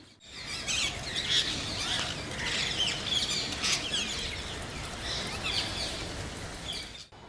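A flock of rose-ringed parakeets squawks and chirps continuously in Visakhapatnam, shrill calls overlapping at a steady moderate loudness throughout.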